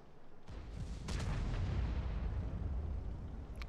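Artillery shells fire in the World of Tanks video game, a sudden boom followed by a second sharp blast and a long rumbling roar, with a faint click near the end.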